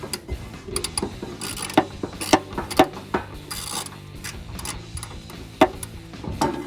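Ratchet and socket tightening a bolt on a textured black RB20 running board fitted to a 2019-2022 Chevrolet Silverado 1500, with sharp ratcheting bursts and clicks in short irregular runs between clunks of metal handling.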